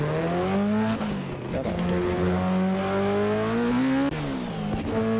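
A rotary-engined car in the Assetto Corsa racing sim revs hard and steadily with a smooth, buzzy harmonic drone, its pitch rising and dipping through gear changes and throttle lifts, loud and continuous throughout.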